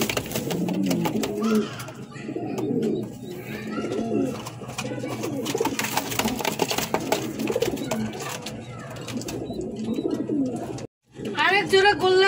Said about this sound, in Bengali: আরেক জোড়া গোল্লা কবুতর নিয়ে হাজির হয়েছি